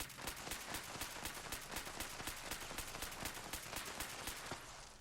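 Rapid shots from a fire-rate Crusader pistol in Fallout 76, a fast steady stream of sharp cracks running for about five seconds, loud and close, with no talking.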